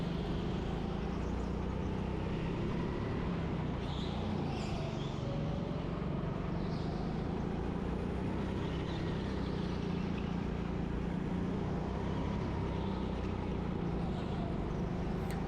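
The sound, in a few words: racing go-karts driving on track during qualifying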